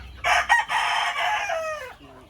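A rooster crows once nearby among pure breed white kelso and golden boy chickens and chicks, a single loud drawn-out call that trails off, with faint clucking after.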